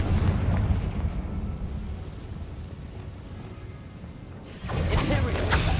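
A Confringo fire spell blast in the video game Hogwarts Legacy, a loud booming burst after a rumbling stretch of game noise, with a bright crackling explosion near the end.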